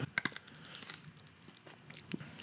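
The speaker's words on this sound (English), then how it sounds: "I just chewed up my cough drop." Close, crunchy chewing of a hard cough drop, with sharp cracks and crinkly crushing bits, fairly quiet and irregular.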